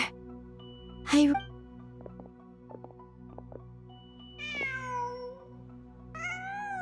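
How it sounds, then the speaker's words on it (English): A cat meowing in a video game, with a couple of rising, fairly close meows near the end over a low ambient hum, after some faint clicks and a brief sneeze-like burst. "Huh. Just a cat."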